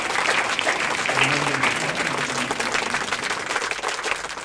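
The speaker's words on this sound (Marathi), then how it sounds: "सगळ्यांनी जोरदार टाळ्या वाजवतो स्वागत करायचं" Audience applause at a school felicitation ceremony honouring scholarship students, sustained dense clapping from a large crowd throughout, with a faint voice briefly audible underneath.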